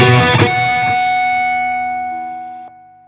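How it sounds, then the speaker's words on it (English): An Ortega ukulele is run through a distortion effect: a quick burst of picked notes lands on a loud, fuzzy sustained chord that rings out steadily and slowly fades before a brief release at the end. "it sounds cool if you distort the instrument"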